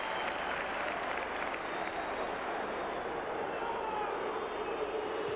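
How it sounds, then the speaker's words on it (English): Football crowd at Ipswich Town versus Arsenal, 1993/94, standing to applaud a player leaving the pitch; sustained, distant stadium applause filling the whole stretch at an even level. "The crowd standing to applaud Pearce as he comes off"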